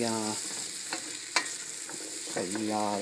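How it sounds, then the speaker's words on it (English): Butternut squash soup being stirred in a pot, a steady sizzle with several short scraping strokes of the spoon, close and fairly loud, no talking. "So you kind of want to stir this."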